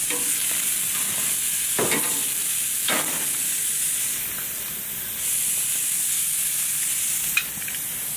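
Steaks sizzle steadily in a hot pan just after being flipped, a loud continuous hiss with a few sharp crackles and utensil clatter, no talking.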